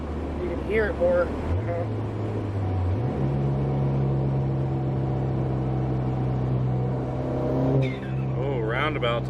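A Ford Fiesta engine running without its airbox accelerates on the road, a steady engine drone stepping up in pitch with gear changes, with people talking over it.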